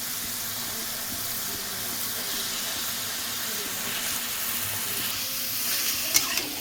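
Chicken marinated with black pepper and salt goes into hot spiced oil in a pan, giving a loud, steady hissing sizzle that holds throughout, with a small clink near the end.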